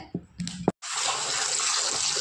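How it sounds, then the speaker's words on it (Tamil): Raw rice (pachcharisi) being rinsed under a running tap in a kitchen: a few soft splashes and handling sounds, then a steady loud gush of water pouring from the faucet, with no talking. "ஒரு அஞ்சாறு தண்ணி நல்லா கழுவிக்கணும்"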